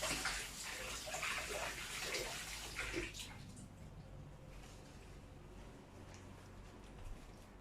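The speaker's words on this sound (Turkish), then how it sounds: "elimizi yıkayıp sabunlayıp başlayalım köftemize" Hands being washed with soap under a running tap before mixing minced meat for Harput köfte; a steady, loud splashing hiss of water for about three seconds, then a softer, continuing trickle.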